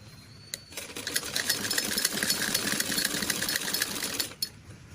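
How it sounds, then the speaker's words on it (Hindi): A sewing machine stitches a Patiala salwar, running in a steady rapid whir of needle strokes for about four seconds before stopping, close and alone with no talking. "इस प्रकार से स्टिचिंग कर रहे हैं।"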